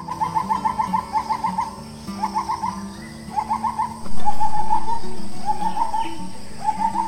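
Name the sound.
various birds calling in a forest park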